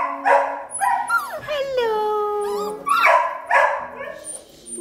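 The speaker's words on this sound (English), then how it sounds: "My sweet puppies." Labradoodle puppies whimper, yip and bark close by, with high drawn-out whines and short bursts of barking while a woman greets them warmly over the top.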